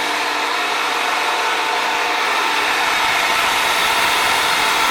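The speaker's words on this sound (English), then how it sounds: "The mixer is a 350 RPM gear driven design." A 350 RPM gear-driven mixer on a dual agitated mixing system with homogenizer runs steadily, a loud, even motor whir with broadband churning noise and no talk.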